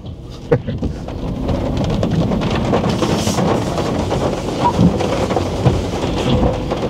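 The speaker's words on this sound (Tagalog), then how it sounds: "malakas ang ulan" Heavy rain drums steadily on a Dongfeng Nammi during a test drive, a dense, continuous wash of noise close around the car with a few louder splashes and knocks, and no talk.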